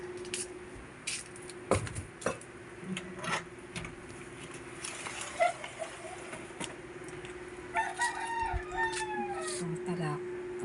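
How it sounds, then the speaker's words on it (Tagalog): A rooster crows near the end of a pre-dawn scene, with a rising, stretched call that stands out over a steady hum, clucking fowl and scattered clicks and knocks. "Talaok na ang manok."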